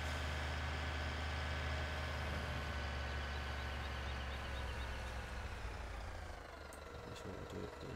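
A farm tractor engine runs steadily with a loud, dense, continuous rumble throughout, easing slightly in level toward the end. No one speaks.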